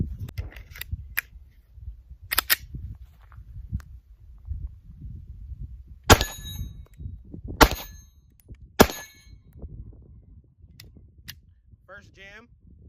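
Several sharp shots from a Glock pistol ring off steel targets, three loud impacts with metallic pings spaced a second or so apart, along with a few fainter pops, over low rumbling background noise.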